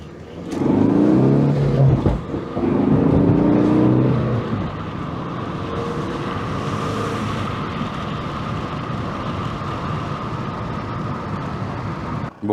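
A car that has just had its gearbox replaced revs up and accelerates hard on a road test, then settles into a steadier engine drone with road noise, heard from inside and fairly loud.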